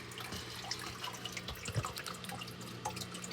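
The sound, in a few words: water being poured slowly into an axolotl tank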